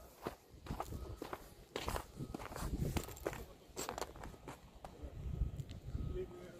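Footsteps walk outdoors in Quebec, Canada, a close, irregular series of crunching steps with some scuffs, and a voice is faintly present at times.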